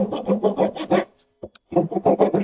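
Steel chisel or file working a notch into wood by hand, giving repeated short rasping strokes in a steady rhythm, close and fairly loud, then a brief pause with a couple of small taps before the scraping strokes resume.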